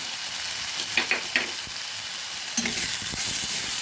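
Ground cumin, coriander, chili and turmeric powder fry in a hot pan for a fish curry with potatoes, giving a steady close sizzle with a few brief stirring scrapes and taps.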